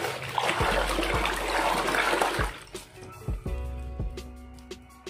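Water splashing and gurgling as a dirty stuffed toy is soaked in detergent, a dense rushing wash at first that gives way to trickles and small splashes, close up and without talk.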